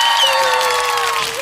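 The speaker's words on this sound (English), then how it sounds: "Round of applause." Applause at a bridal expo, a dense wash of clapping from a crowd, loud and steady, with a faint tonal whistle drifting underneath.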